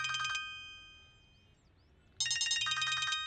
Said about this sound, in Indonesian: Teleponmu berdering.